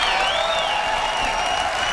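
Applause from a keynote audience at an Apple product launch, a steady, dense clapping that fills the whole moment with no pauses.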